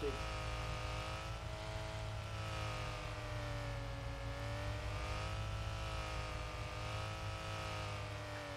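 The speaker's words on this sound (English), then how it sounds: "That engine in the back of this is so horribly modeled." A car engine in the Arma 3 video game, driving off road at speed: a steady droning hum that rises and falls slightly in pitch, continuous and fairly quiet.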